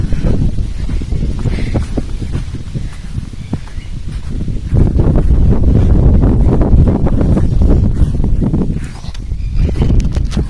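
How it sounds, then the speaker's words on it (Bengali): Strong wind buffeting the microphone outdoors, loud low rumbling gusts that swell and ease throughout, with faint rustling beneath. "এখানে প্রচুর বাতাস করছে"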